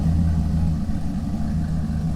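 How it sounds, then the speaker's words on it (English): A Datsun 280ZX fitted with an LS engine idles steadily, a deep, even low rumble that holds close and constant throughout with no revving. "so let the car idle for a little bit"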